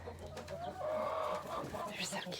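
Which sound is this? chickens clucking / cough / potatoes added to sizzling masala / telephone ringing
chickens clucking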